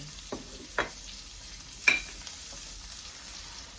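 Sliced pork cubes for adobo fry in a pan, giving a steady soft sizzle with a few sharp scrapes and clinks as they are stirred, close up and without talking.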